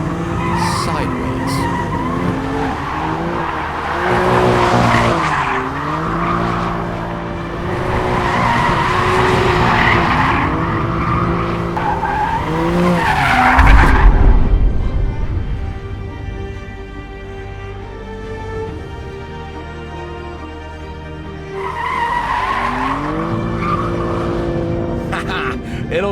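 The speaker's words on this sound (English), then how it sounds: "a 4-seat compact car that will do big skids like that" A 2023 BMW M2 does big sideways skids with its tires squealing loudly in repeated long bursts, the engine revving and falling between slides, with a brief lull before another squealing pass.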